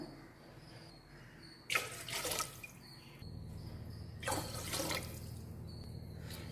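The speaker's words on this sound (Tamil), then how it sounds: "அந்த தண்ணி வந்து நான் ஒரு 3 டம்ளர் கிட்ட சேர்த்துக்கிறேன்." Rice-washing water is poured into a pot for sweet pongal in two distinct splashing bursts separated by a pause, over a low steady background hum, close and fairly loud.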